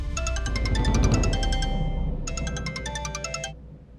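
Mobile phone ringtone chiming in two repeated bursts of bright, rapid melodic tones, a short gap between them, over a busy low background during an incoming call.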